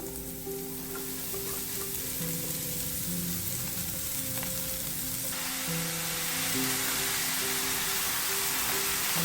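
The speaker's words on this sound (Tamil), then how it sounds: "கோஸை போட்டு நல்லா இப்படி கிண்டிக்கிட்டே இருங்க" Loud continuous sizzling of shredded cabbage stir-frying in a pan for Tamil cabbage poriyal, growing brighter partway through, with occasional stirring scrapes; no talking.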